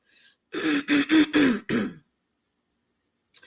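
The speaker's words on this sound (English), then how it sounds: "Let me clear my throat." A single person clears their throat loudly in a run of four or five quick, rasping bursts, then silence follows.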